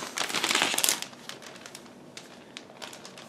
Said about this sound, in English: Then we have another plastic bag, but this time it carries only one plastic screw.